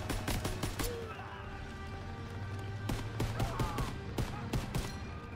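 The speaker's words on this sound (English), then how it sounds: "I'm getting shot there" Gunfire in Call of Duty: WW2, sharp shots in rapid bursts of several rounds and some single cracks, separated by quieter gaps over a low background hum.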